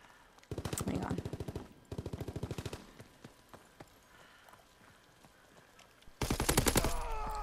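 Rapid automatic gunfire rattles in Call of Duty WWII on the Carentan map: three loud, dense bursts, with scattered single shots and quieter distant fire between them.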